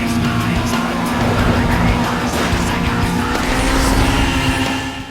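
Lotus race car engine roaring at full throttle in the Need For Speed: Most Wanted racing game, with tire squeal and skidding through a curve, loud and continuous throughout.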